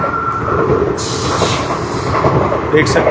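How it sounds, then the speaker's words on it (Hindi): A train rolls steadily past a closed railway level crossing in Uttarakhand, a loud, continuous rumble of wheels on rails with brief higher rattles, while someone speaks over it. "अभी रेलगाड़ी निकल रही है"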